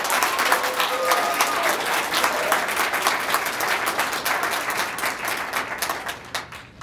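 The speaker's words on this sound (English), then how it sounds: "Let's just give them one more round of applause." Audience applause at a regional poetry recitation competition, a crowd clapping with distinct individual claps audible, fairly close, tapering off near the end, with a brief trace of voice at the start.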